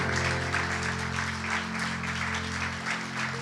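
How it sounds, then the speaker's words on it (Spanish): A church congregation applauds in a steady, even wash of clapping, heard at moderate distance over a sustained organ or keyboard chord drone. "Un aplauso"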